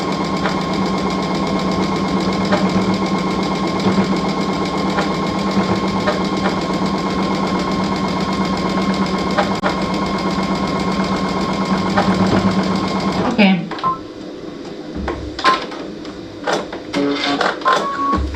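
Sewing machine stitching a baby quilt runs in a steady, fast mechanical whir for about thirteen seconds, then stops abruptly, leaving faint scattered clicks and handling noises.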